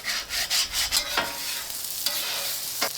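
Chorizo and vegetables frying in a pan in their own fat, a close crackling sizzle with several rhythmic stirring scrapes early on and a couple of later ones, no talk.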